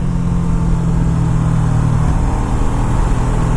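A Kawasaki Ninja 650R motorcycle engine held at high revs, a loud and steady near roar with no breaks, climbing a small hill in second gear for a clutch wheelie.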